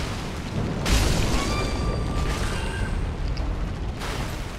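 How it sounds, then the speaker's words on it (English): Chaos Fire Orb pyromancy exploding in Dark Souls 3, a deep booming burst followed by a sustained roaring rumble with faint ringing tones, loud and up front. "Chaos Fire Orb is really strong"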